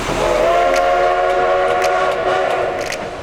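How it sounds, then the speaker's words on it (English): A train on the railroad along the Animas River in Colorado's San Juan Mountains sounds a loud, sustained horn or whistle with layered harmonic tones, close by and alone, tapering slightly at the end. "It's considered one of the most scenic train rides in North America."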